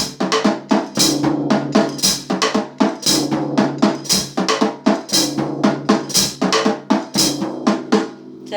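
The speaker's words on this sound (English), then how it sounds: "We want the rim shot, and we also use the floor tone, so it sounds like this." A drum kit plays a Latin beat with the snares switched off, rim shots and floor tom hits forming a busy, repeating pattern of sharp clacks and hollow thumps, loud and close with no talking.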